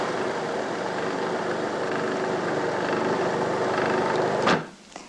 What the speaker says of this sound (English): you can put it in a processor or blender. And I have a processor